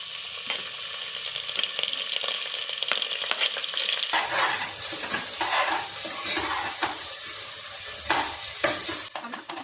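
Onion and tomato fry with cumin in a pot for egg biryani, a steady close sizzle under repeated stirring and light scraping, growing louder and denser partway through with no talk.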